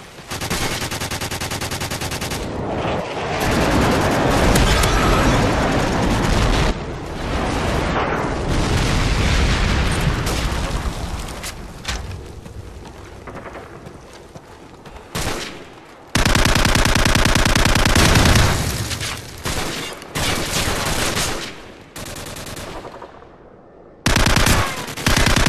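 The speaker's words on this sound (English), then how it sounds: "Friendly airstrike on the way." Video game battle sounds from an airstrike mix rapid machine-gun fire with heavy booming explosions, loud and dense in continuous bursts with a few brief gaps.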